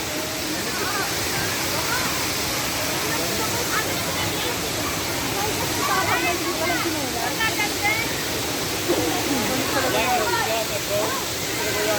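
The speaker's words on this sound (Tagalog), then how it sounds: "At yung mga falls na nasa ilalim ng mga naglalakihan at iba't ibang punong kahoy" Waterfall at Bato spring, pouring beneath large trees, a steady dense rush of falling water filling the scene continuously, with faint voices under it.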